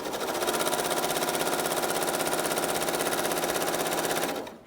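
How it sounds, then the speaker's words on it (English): A sewing machine running steadily along long lengths of fabric, a fast even mechanical chatter held at constant speed for several seconds before stopping abruptly. "Now, when you're sewing long lengths like this, don't pull your fabric."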